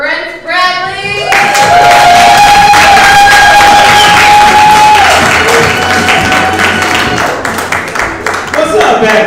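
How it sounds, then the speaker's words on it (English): An audience at a comedy open mic applauds and cheers, steady loud clapping with shouts and whoops rising sharply after a brief opening and holding for several seconds, with a held vocal tone riding above the crowd. "everyone, please put your hands together for Brent Bradley."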